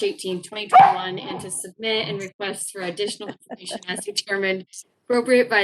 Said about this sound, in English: I apologize for my dogs tuning in.